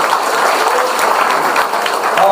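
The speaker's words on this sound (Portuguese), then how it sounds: "Vamos aplaudir ao Senhor na vida dessas mães." Congregation clapping for mothers during a church service, a steady dense burst of applause filling the space, loud and continuous throughout.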